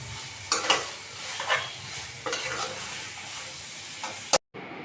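Dried fish (shutki) cooking with whole garlic cloves in a pan, a low steady sizzle broken by several scraping stirs of a spatula, ending in a sharp clatter before a brief silence.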